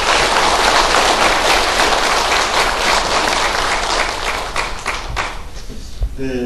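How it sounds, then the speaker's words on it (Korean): Sustained, dense applause from an audience at a ceremony for Pacific War victims' compensation, loud and steady for about six seconds before thinning out, with a voice starting at the very end. "큰 박수 주십시오"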